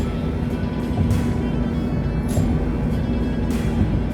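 A car driving at night through a road tunnel in Qatar, giving a continuous, enclosed roar of engine and tyres with a faint swell of passing traffic.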